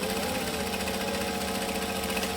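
A sewing machine back stitching through vinyl runs in a steady, loud mechanical whir with a fast rhythmic chatter, continuous and close with no pauses or voices.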